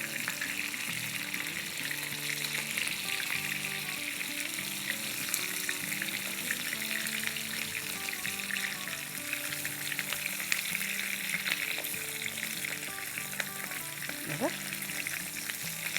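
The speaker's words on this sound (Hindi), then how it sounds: "फिर उलट पुलट के फ्राई करेंगे" Chicken-kebab-stuffed bitter gourds fry in a pan as they are flipped and turned, making a loud, continuous sizzle with scraping and stirring throughout.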